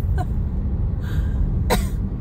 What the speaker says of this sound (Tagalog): Nadadyahe ako pag medyo umuubo ako.